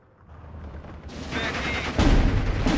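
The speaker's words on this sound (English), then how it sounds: "Might as well strafe these to stop them firing." Fighter plane gunfire strafing machine gunner positions in Steel Division 2, a rising roar that breaks into loud, dense bursts of fire near the end, with no talk.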